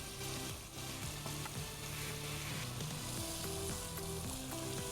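Meat for thawbat penda fries in a pan while yakhni stock is added a little at a time, giving a steady, close sizzle with stirring scrapes; a tonal layer resembling background music runs throughout.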